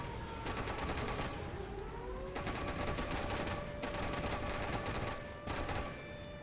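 Dense, continuous battlefield gunfire and explosions from the Toy Soldiers game, loud and sustained automatic fire in long bursts with brief gaps, a wailing tone sliding underneath.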